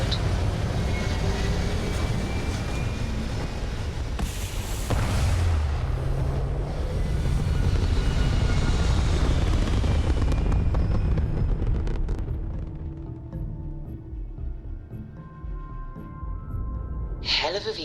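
Spaceship engines roar during takeoff in the video game Starfield, a loud, deep rumbling thrust that builds and holds for about twelve seconds before fading. Voices talk over it.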